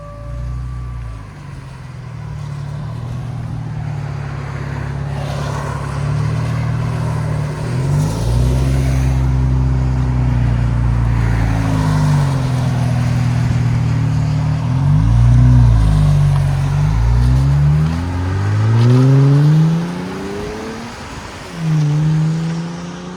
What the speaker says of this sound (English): Nissan Z with a full AWE track system catback.